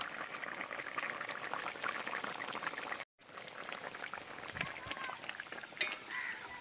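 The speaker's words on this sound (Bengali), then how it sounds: "জিরে সর্ষে বাটা দিয়ে একটু ফুটিয়ে নিয়েছি" Tamarind sour curry with ground cumin and mustard paste stirred in, simmering steadily in a pot: a continuous close bubbling and gurgling with one brief dropout, no voice.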